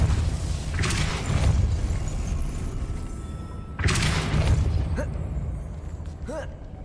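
In the video game Hogwarts Legacy, the Depulso spell is cast as a burst of whooshing blasts, two strong surges with a sharp pop and chime, over a steady ambient game background.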